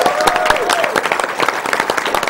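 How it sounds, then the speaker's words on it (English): Crowd applause and cheering from the audience at a speedrun charity marathon, loud dense clapping with scattered shouts and whoops filling the room continuously. "let's get some applause and noise going because we've passed"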